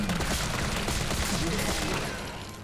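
Rapid gunfire in Resident Evil 3, a dense burst of repeated shots with a dull roar under it, loud and close, fading toward the end with no one speaking.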